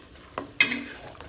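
An egg hits a hot pan of cauliflower stir-fry and sizzles, with a short clatter of stirring just before and the hiss fading over about a second.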